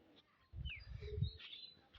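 Chickens on a rural homestead give a short cluster of soft, low clucks, faint and close together, lasting about a second with a brief chirp above.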